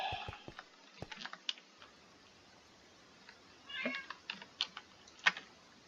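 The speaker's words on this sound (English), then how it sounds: "Hey kitty, what's the matter?" A cat meows several times at close range in a Minecraft Infitech 2 let's-play session. The meows are short and scattered, and they sit among rapid clicks of computer keyboard typing against a quiet background.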